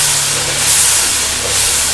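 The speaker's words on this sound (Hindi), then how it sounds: "और दरमियानी आंच पे हम इस मसाले की भुनाई करेंगे।" Masala spices frying on medium heat for a lauki chana dal, giving a steady close sizzle and hiss that runs unbroken throughout with no talk.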